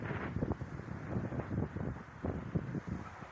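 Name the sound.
wind blowing at old Madinah railway station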